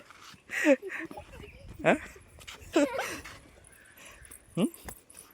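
Puppies whimper and yip in short, high whines spaced a second or so apart, fairly faint, while people talk nearby.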